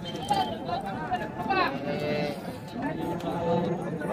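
Jersey cross cattle at a cow market moo in several drawn-out calls, close and fairly loud, amid the chatter of people talking nearby.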